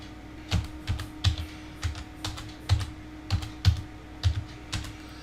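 Typing on an ordinary computer keyboard, a run of light, close key clicks in a loose, irregular rhythm over a faint steady hum.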